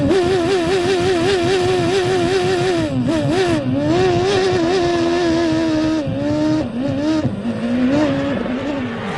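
Formula 1 cars from the 1993 season scream at high revs, a loud, sustained engine wail with pitch rising and dipping through gear changes as cars race and overtake, continuous throughout with no talk.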